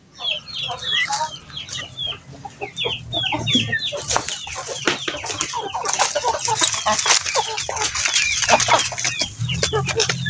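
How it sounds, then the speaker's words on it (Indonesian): Free-range village chickens cluck and squawk repeatedly on a farm, a busy overlapping flock close by with a low hum underneath and no talk. "Kevin mau kasih makan ayam"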